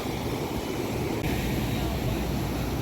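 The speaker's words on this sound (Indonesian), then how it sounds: "Suara ombaknya kenceng banget." Loud, constant roar of ocean surf on a beach at Padang, Indonesia, at dusk, with broadband rushing noise, steady throughout with no distinct breaks between waves.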